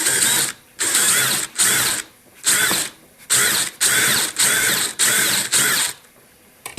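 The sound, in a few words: drilling with an old drill bit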